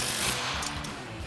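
An impact wrench with a 19mm swivel socket extension tightens the bottom shock mounting bolt on a Jeep Wrangler JL during an AEV suspension lift install, giving a steady, loud mechanical rattle that runs through the whole moment.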